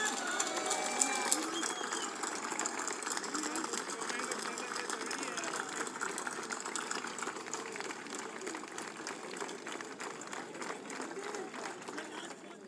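An audience at a Karachi poetry mushaira at the Arts Council claps steadily in a dense patter that thickens toward the end, mixed with crowd murmur and a voice talking over it.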